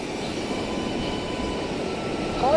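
A small FPV drone, a Pavo20, flies near the beach at Tanah Lot, Bali, giving a steady, loud, whining motor hum with a rising whir at the end.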